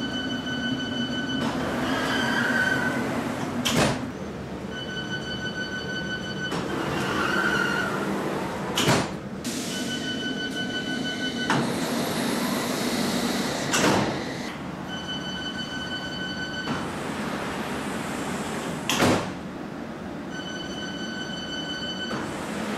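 A London Underground S Stock train on the District Line repeatedly sounds its door-closing warning beeps, each tone sequence ending in a solid thud as the doors shut, over a constant hum of the train.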